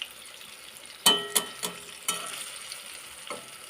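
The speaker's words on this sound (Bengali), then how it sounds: "এবার সবগুলোকে আমি ভেজে নেব।" Chira-banana pakoras fry in oil without flour in the batter, a faint background sizzle punctuated by several sharp utensil knocks and scrapes, up close with no voices.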